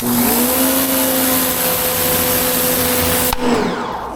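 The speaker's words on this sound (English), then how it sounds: "I'm going to use the turbo nozzle to clean that area right there." An AVA Easy+ P50 pressure washer fitted with a turbo nozzle runs at a steady, loud roar with a motor hum while cleaning a patio, then cuts off abruptly near the end.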